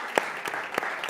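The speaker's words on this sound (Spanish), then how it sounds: "Un fuerte aplauso para los jóvenes aquí en la casa del Señor." Congregation in a church applauding the youth, a brief quiet patter of clapping with a few sharper individual claps standing out.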